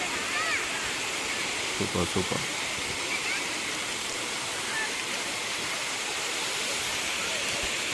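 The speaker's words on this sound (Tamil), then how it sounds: "இங்கே பாருங்கள் தண்ணி கொட்டுறது எவ்வளோ அழகாக தெரியுது. தண்ணி மேலேருந்து ஊற்றுது." Kovai Kutralam waterfall pouring from above, a steady broadband rush of falling water close by, with a brief voice speaking over it.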